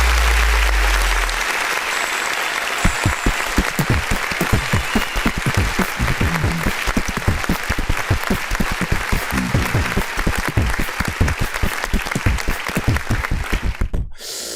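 Sustained loud audience applause, dense clapping from a crowd throughout, ending abruptly.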